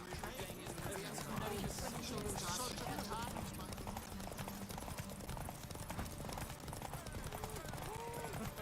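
Horse hooves galloping in The Witcher 3 video game, a quick continuous clip-clop rhythm running throughout at moderate level, with game sounds and some voice activity mixed in.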